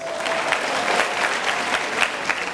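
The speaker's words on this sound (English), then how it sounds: "Clap for yourselves." Steady, loud clapping from an audience at a university public lecture, sustained and even for a few seconds.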